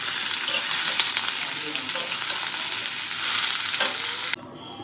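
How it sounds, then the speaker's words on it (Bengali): Watermelon frying with turmeric in a pan gives a steady, dense sizzle close up, with occasional stirring scrapes, running evenly before dropping to a quieter hiss near the end. "হলুদ দিয়ে সুন্দর করে ভাজি করে নিব।"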